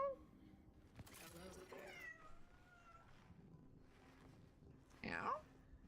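A cat meows in a game set near a freezer, a short bright cry near the end after quieter scattered sounds, with a person speaking softly earlier and imitating a meow.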